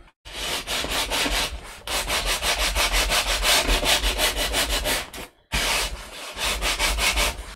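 Steady rasping strokes of sandpaper or a file tapering a wooden hull plank for a 1:200 OcCre Prinz Eugen model ship, continuous loud rubbing broken by two brief pauses, close up with no talk.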